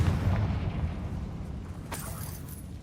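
A Confringo blasting spell explosion in Hogwarts Legacy, with a deep boom at the start that fades into a rumbling tail and a short crackling burst near the end.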